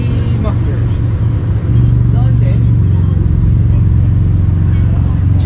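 A car running with an aftermarket exhaust from JD Mufflers, a local Cavite muffler and downpipe setup, gives off a loud, steady low engine rumble up close while people talk over it at a car meetup.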